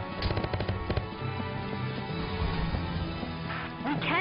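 Rapid bursts of gunfire in the war game Valkyria Chronicles, with sharp cracks clustered early, then a dense layer of battle noise and music carrying on underneath.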